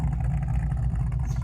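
A 1968 Mustang Fastback's Blueprint 347 stroker V8 idles with a deep, loping rumble, steady and close, its low pulses rolling evenly throughout.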